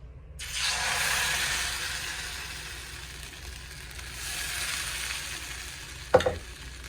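Appam batter poured into a hot iron cheenachatti (kadai), giving a loud, broad sizzle that swells and gradually settles, followed by a brief metallic clatter near the end.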